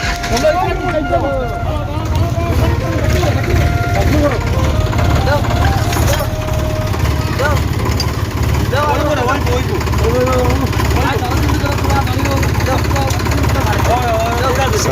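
A tractor engine idles with a steady low rumble throughout while several people talk nearby.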